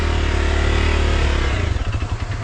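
A semi dirt bike's engine revs hard and steady, loud and close, then drops into a choppy, uneven idle-like pulsing as the throttle eases in a forest setting.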